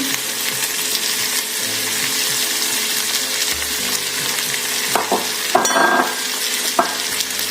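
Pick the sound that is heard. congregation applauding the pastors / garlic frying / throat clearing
garlic frying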